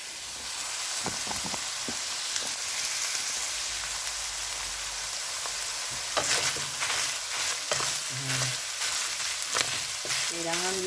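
Ground lamb sizzles and fries in a pan, cooked as food for dogs, a steady loud crackle with stirring scrapes and clinks near the end.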